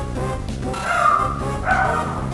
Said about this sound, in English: As my dog starts going absolutely ballistic.